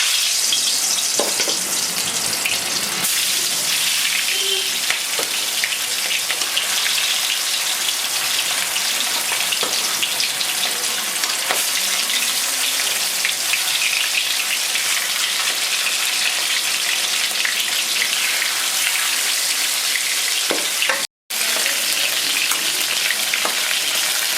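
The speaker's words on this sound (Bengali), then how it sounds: "এক ভাজা হয়ে গেছে আর এক ভেজে নিচ্ছি মাছগুলো" Stingray fish pieces frying in hot oil in a wok give a loud, steady, close-up sizzle that crackles without a break, except for one instant dropout near the end.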